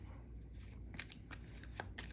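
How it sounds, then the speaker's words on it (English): Tarot cards being shuffled in a few quick, crisp riffling bursts, close and fairly soft in a quiet room. "I also feel guided to just give it a quick little 1-2. I shuffled these very well earlier, but just to give it some new life."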